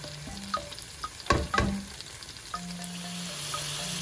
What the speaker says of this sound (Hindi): मैंने इसमें मटन का कीमा ऐड कर दिया है और अब मैं इसे अच्छे से पकाऊंगी